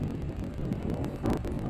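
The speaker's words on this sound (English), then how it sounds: "it's a little bit windy" Steady wind buffeting the microphone outdoors on a sandy beach, a low rumbling roar with gusts swelling near the end, no voices.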